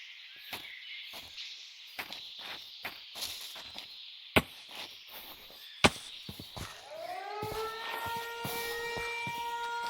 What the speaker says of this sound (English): After landing, we heard the siren, but saw no one.